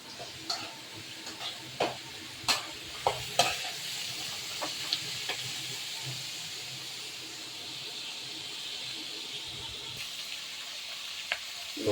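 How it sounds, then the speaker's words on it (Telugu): Chana dal with tender tamarind leaves cooks in a pan with a steady, close sizzle and bubbling hiss, marked early on by several sharp stirring taps of a spoon and no talking. "పప్పు అయితే బాగా ఉడుకుతుంది"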